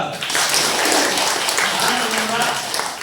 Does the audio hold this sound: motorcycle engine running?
no